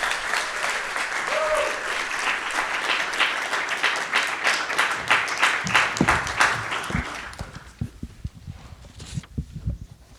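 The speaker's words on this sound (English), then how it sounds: "a last round of applause to welcome our speakers tonight" An audience gives a round of applause to welcome the speakers at an evening conversation, with dense, lively clapping that thins to a few scattered claps, footsteps and thumps as it dies away.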